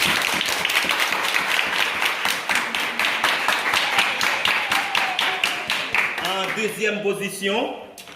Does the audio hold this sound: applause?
yes